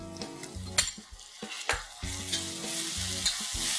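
Ginger, garlic and coriander paste stirred into onions in a pan for misal, with uneven scraping strokes over a quiet, steady frying sizzle close by and no voices.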